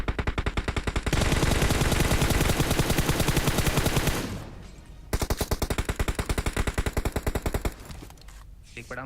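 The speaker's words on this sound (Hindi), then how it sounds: "दूर से भी वो गोली चला रहा है" Rapid automatic gunfire in the game BGMI (PUBG Mobile), loud and close, in long sustained bursts with a brief pause before another volley resumes.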